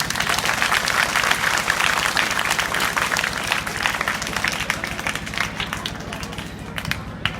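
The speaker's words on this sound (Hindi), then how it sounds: "एक जोरदार ताली बजाओ अपने लिए" Loud, sustained applause from a hall full of students at an inter-college session, dense rapid clapping holding steady for several seconds before tapering slightly at the end, with no voices on top.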